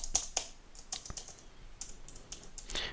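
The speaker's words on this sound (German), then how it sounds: "Dabei durchaus ein leichtes Tastaturklackern, also quasi ein akustisches Feedback" Keys clack lightly and unevenly on a Microsoft Designer Bluetooth Desktop keyboard, a close, quiet run of typing with short pauses between keystrokes.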